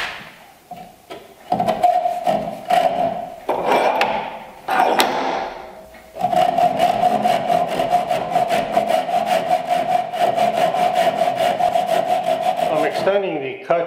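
A handsaw cuts a bridle joint in a wooden board, its strokes rasping in a quick steady rhythm close by, with a brief pause partway through before sawing resumes alone.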